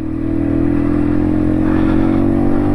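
An MZ TS125 motorcycle ridden on the road in third gear after an engine rebuild, its two-stroke engine droning loudly and steadily at low revs, close and continuous.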